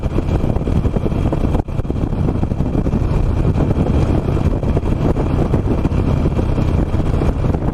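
Seventeen-year-old Harley Davidson Nightster motorcycle climbing a steep hill in second gear, its engine a loud, steady, thin drone mixed with heavy wind buffeting the microphone throughout.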